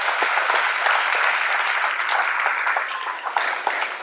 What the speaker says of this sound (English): so quick round of applause for them